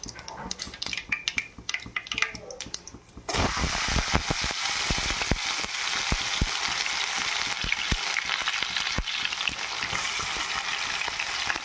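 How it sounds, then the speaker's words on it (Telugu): Onions drop into hot oil already holding urad dal and mustard seeds, setting off a sudden loud, dense sizzle that stays steady, with sharp crackles and pops coming through at first. "ఉద్దిపప్పు ఆవాలు వేసుకున్నాను, ఇప్పుడు ఎర్రగడ్డలు వేసుకుందాం"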